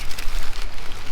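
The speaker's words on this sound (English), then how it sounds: "Here comes the rain." Rain beginning to fall on a parked van in Snowdonia, a dense, loud steady patter of drops drumming on the roof and body at close range.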